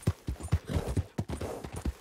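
Horse hooves clip-clop at a steady trot in the Red Dead Redemption 2 video game, about eight close, regular thuds over two seconds with no speech over them.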